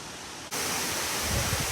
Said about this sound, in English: That's the waterfall.